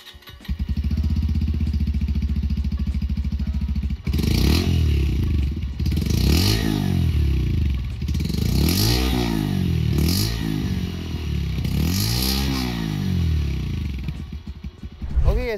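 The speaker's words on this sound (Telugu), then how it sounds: "ఈ బైక్ ఎగ్జాస్ట్ నోట్ ఎలా ఉందో ఒకసారి చూద్దాం." A Bajaj Pulsar 125 motorcycle idles with a steady, throbbing exhaust note, then is revved repeatedly in rising and falling sweeps. The loud, close revs come in a series of bursts.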